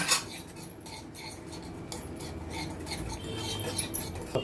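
Chicken tandoori marinade mixed in a bowl, a close, quiet run of scraping, rubbing and light clinks of a spoon against the bowl.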